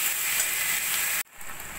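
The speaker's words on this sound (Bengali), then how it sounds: "আদা রসুন দিয়ে 2-3 মিনিট মতো ভেজে নিয়েছি।" Onion frying with ginger-garlic paste in a pan gives a steady, loud sizzle and hiss that cuts off abruptly near the end, then returns more quietly.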